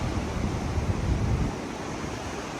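Surf rolls steadily onto a long beach at Koh Lanta, a continuous broadband wash with some wind buffeting the microphone, heavier in the first half and easing slightly after.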